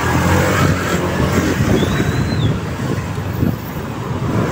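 Car driving through congested road traffic, a loud steady engine and road rumble with wind buffeting on the microphone and a brief faint whine from passing traffic, no talking.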